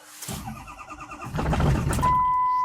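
A cold diesel engine in winter cranks with a rapid, labored chugging, sputters briefly as if catching, then fails to start, leaving a steady electrical whine.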